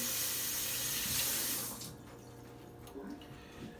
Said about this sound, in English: Get my hands washed.